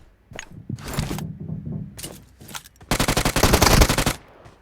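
Automatic gunfire in the battle-royale game BGMI (PUBG Mobile) while an enemy is knocked down: a few short bursts early, then a loud, rapid sustained volley of closely spaced shots near the end, with no talk.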